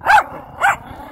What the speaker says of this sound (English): The guard dog.